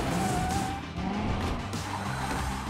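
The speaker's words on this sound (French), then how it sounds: "fais crisser les pneus" A Hot Wheels racing toy car's tires squeal through a continuous loud skid, with a thin rising whine over dense rumbling motor and road noise, and no talk.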